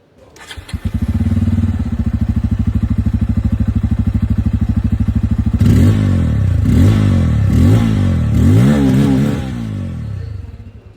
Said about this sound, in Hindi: यहाँ पर भी इसकी जो एग्जॉस्ट साउंड है वो मैं आप लोगों को सुना दूँ